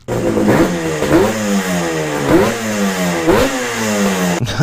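Old motorcycle engine running close and loud, its pitch rising and falling in repeated rev swells with mechanical clatter, no talk.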